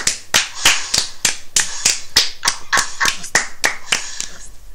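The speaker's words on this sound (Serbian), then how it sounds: "Evo jedan aplauz" Rhythmic hand clapping, about fourteen sharp, close claps at a steady even pace over five seconds, loud and dry, with no talk over it.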